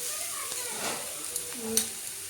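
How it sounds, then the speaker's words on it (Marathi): Grated carrots sizzle in hot oil for carrot halwa, a faint steady hiss with small stirring scrapes. Someone talks over it in Marathi. "आपलं तेल गरम झालेलं आहे त्यामध्ये आपण टाकणार आहोत गाजर किसलेले गाजर"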